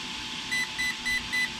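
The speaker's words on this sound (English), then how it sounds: "so you'll hear those beeps" Four short, evenly spaced electronic beeps repeat over a steady background hum, clear and close.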